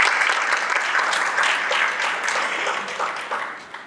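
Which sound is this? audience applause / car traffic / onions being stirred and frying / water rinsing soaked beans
audience applause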